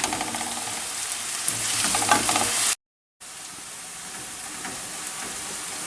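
Onions and peppers sizzle steadily in a frying pan for menemen, with scraping stirring strokes over the hiss, broken by a brief silent cut midway before the frying resumes at the same level.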